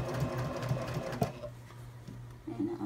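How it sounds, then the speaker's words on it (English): A sewing machine runs steadily, stitching the lining of a zipper pouch for sunglasses with edges being matched as it goes; the motor hum is continuous and close, with a brief click midway and a slight change in pace near the end. "I'll keep matching the edges and sewing this through"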